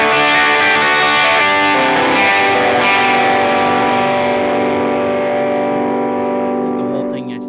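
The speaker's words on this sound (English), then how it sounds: "It is the Michael Westwood Matchless and the Jake Fowler Marshall from the Teddy Tones, and it kind of sounds like this" Distorted electric guitar through Matchless and Marshall amp simulations, a loud, dense sustained chord wash with effects and reverb that slowly fades at the end.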